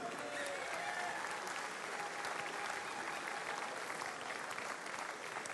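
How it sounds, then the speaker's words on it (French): Audience applause at the Bocuse d'Or 2013 award ceremony, dense continuous clapping from a large hall crowd, steady and fairly soft in level throughout. "On peut l'applaudir."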